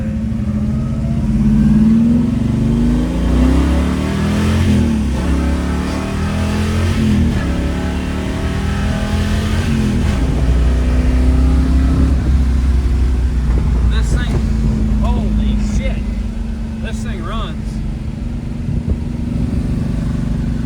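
A 1969 Chevrolet Chevelle SS 396 V8 with a 4-speed rumbles loudly up close, revving and climbing through the gears in long surging pulls, with exhaust growl throughout.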